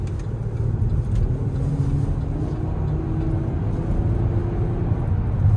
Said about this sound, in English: Car just sounds so nice. It's so smooth. Has a nice engine though.